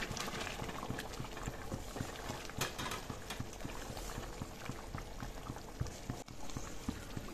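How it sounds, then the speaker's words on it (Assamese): Hot water is added to fish and green peas frying for curry, bubbling and sizzling in a continuous close hiss with rapid rhythmic popping throughout. "ইয়াতে এতিয়া মই গৰম পানী এড কৰি দিলো"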